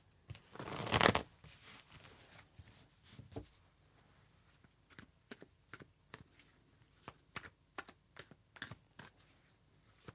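Tarot cards shuffled in a reading: a loud riffling burst near the start, then a long run of sharp, separate card taps and flicks, close and dry, with no talking.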